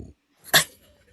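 A person mimics a growling cat with one short, rough vocal burst mid-clip, close and fairly loud, following a brief low murmur at the start.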